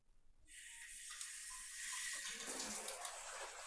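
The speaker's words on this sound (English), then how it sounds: "Bidet spray is ready." A newly installed toilet bidet sprays water, beginning with a sudden hissing rush after a short quiet moment, then a steady spray that rises slightly and grows fuller, close and unaccompanied by talk.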